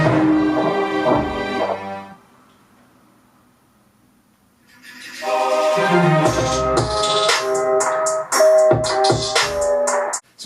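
A hip-hop beat with timpani plays back: a dense opening section, a near-silent lull, then full drums with sharp percussive hits and layered tones returning loudly to the end, with no talking.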